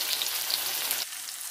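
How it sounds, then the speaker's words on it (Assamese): Chopped onions frying in hot oil in a pan until brown, a steady close sizzle with dense crackling spatter that drops to a quieter, softer hiss partway through. "মানে ব্ৰাউন কৰি ভাজি ল'ম"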